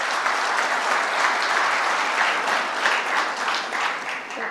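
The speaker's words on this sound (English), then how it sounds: "So a special round of applause for Mr." Sustained applause from an audience at a dedication event, steady and full throughout with no break, filling the room.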